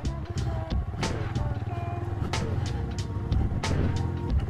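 A motorcycle rides along an off-road forest track, its engine droning and revving continuously with bumps and rattles over rough ground.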